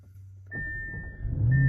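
A 2022 Audi RS7 engine starts up, a brief starter crank building into a rising low rumble, accompanied by a steady electronic chime tone inside the cabin.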